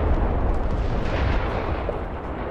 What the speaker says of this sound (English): Close by to where the bombs are dropping